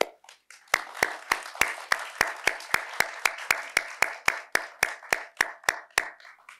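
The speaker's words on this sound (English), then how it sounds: "I can see Dr. Wetter clapping in the distance" A lone person claps at a graduate creative writing reading, giving a steady run of about twenty crisp, evenly spaced handclaps after a few soft starting taps, close and clear with nothing else behind.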